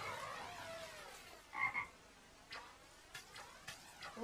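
A frog croaks in a Naruto Shippuden anime episode, with a quick pair of short croaks in the middle and a few fainter clicks after them, heard over a soft, hissy background.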